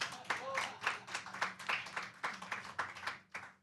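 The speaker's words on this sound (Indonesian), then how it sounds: "sekali lagi keras tepuk tangannya" Audience applause at a televised Indonesian talk show, a short burst of quick, fairly faint clapping with uneven rhythm, with a voice speaking over it.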